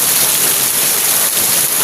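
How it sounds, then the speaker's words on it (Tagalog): Heavy night rain pours in a dense, continuous roar, loud and close with no breaks and no voices. "Lakas ng ulan ngayon."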